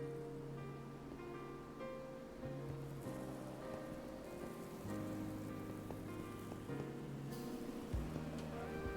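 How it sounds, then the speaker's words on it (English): Rain falling in a video game, a soft, quiet patter of drops on surfaces over a low bed of sustained musical tones, with no talking. "it's kind of raining"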